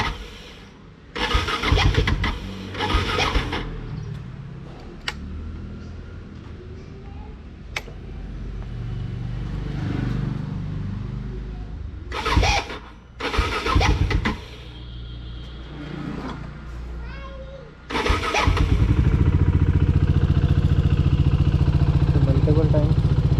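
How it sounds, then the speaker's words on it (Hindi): A motorcycle starter cranks in several short bursts with pauses between, a voice speaking in between, until the engine finally catches and settles into a steady idle, after midnight rain in Mount Abu. "मल्टीपल टाइम स्टार्टर मारने के बाद स्टार्ट हुआ।"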